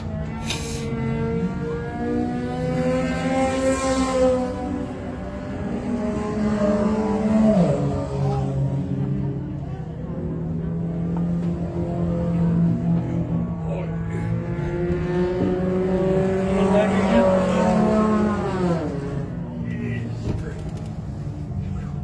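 Race cars roar past at Can-Am Speedway, their engines loud and sustained with rising and falling pitch as several cars pass and rev, while a track announcer talks over them.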